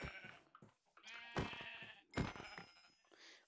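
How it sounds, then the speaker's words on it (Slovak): Sheep bleating in the Minecraft video game, several distinct bleats spaced across a few seconds, fairly close and clear with no talking over them. "Ovca."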